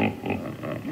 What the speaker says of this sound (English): A hippopotamus sounds like this.